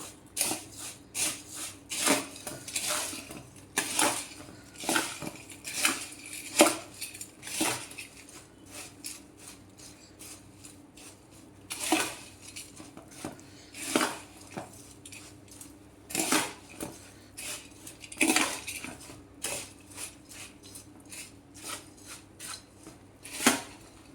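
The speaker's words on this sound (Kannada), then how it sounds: "ಇಷ್ಟೆಲ್ಲನೂ ಹಾಕಿ ಚೆನ್ನಾಗಿ ಮಿಕ್ಸ್ ಮಾಡ್ಕೋಬೇಕಿದು" A spoon scrapes and clinks against a bowl in an irregular run of sharp taps and rattles as bhel puri (puffed rice, sweet-sour sauce) is tossed together, with brief pauses.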